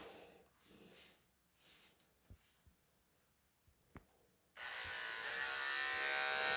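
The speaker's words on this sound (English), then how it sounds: "So I'm just going to get the clippers onto that." After a few quiet seconds with faint clicks, electric clippers switch on and buzz loudly and steadily up close, trimming matted fur on a Persian chinchilla cat.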